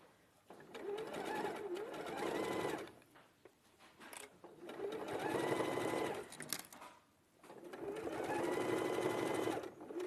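A sewing machine stitches quilt-style binding with a quarter inch seam. It runs in three sustained bursts of steady, whirring stitching, with short pauses in between.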